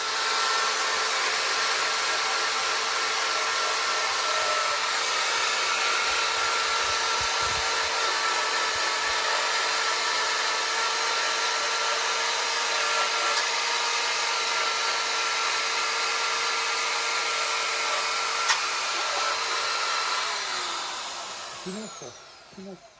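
A power sander works steadily on an old table bought cheaply for renovation, a continuous loud whirring hum that holds for about twenty seconds before winding down at the end.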